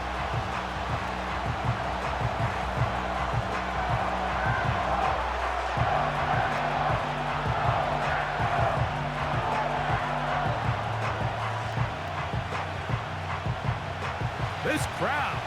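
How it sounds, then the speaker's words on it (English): Steady stadium crowd roar from an American football game in Madden NFL 25, Colts against Packers on Xbox Series X, a dense continuous wash of cheering under a commentator's talk with a low repeating musical drone. "This crowd into it now as we get to third down"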